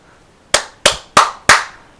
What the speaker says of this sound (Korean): 박수 쳤습니다. 박수.